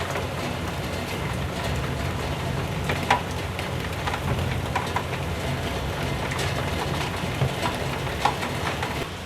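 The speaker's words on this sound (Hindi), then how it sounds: "ये देखिए नाज़रीन, बाहर बारिश हो रही है, बारिश का कितना हसीन मंजर है।" Rain falls steadily outside, a dense, even hiss with scattered droplet patters against surfaces, constant and fairly close, with no talking.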